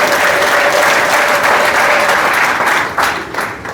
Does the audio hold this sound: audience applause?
yes